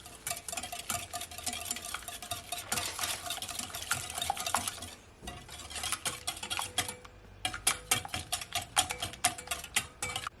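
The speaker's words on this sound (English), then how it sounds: "Just wanna whisk it." Pancake batter being whisked in a bowl, a fast rhythmic clatter and scrape of the whisk against the bowl that keeps going with a short pause midway, close and fairly quiet, with no talking.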